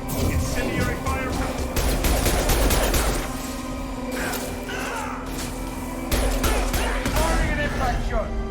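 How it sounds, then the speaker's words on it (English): Mass Effect firefight with incendiary ammo: dense, continuous rapid gunfire and crackling bursts roll on steadily, loud and close, with a voice speaking over the shooting. "Incendiary fire."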